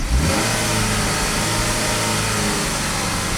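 A Chevy Equinox engine with a stall-under-load fault revs up sharply and holds a loud, steady high-RPM roar, close by, with no one talking.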